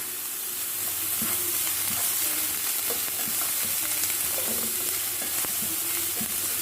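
Sliced green chilli and curry leaves fry in oil in a pan for beetroot pachadi, a loud, dense, continuous sizzle with soft scraping and clinks from stirring throughout, close up and without speech.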